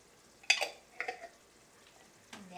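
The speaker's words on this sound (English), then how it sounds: "and then stir" A spoon scraping and stirring a malunggay dish in a frying pan, three short clattering strokes against the metal with faint sizzling between them, close and fairly quiet.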